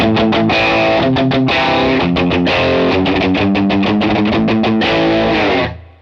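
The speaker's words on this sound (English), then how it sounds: "let's say we're going for more gain and black distortion." Heavily distorted electric guitar chugs and rings with a thick, saturated high-gain tone, playing a rhythmic riff alone before cutting off at the end.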